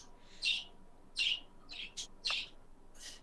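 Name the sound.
pet bird chirping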